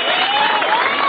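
A crowd applauds and cheers at the awards ceremony of the 1986 Stubbies Michelob Pro surf contest in Oceanside, California: a steady, dense wash of clapping with a thin whistle-like tone running through it.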